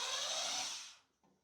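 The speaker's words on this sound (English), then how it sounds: "I'm going to grab my drill because I have it handy." A power drill whirs loudly and close for about a second as it backs a silver screw out of a desk, then cuts off, leaving a faint trailing hum.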